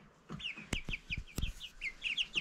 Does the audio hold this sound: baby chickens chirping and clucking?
yes